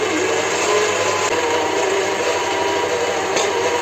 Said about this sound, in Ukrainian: Ось так включаю м'ясорубку на, на одиницю.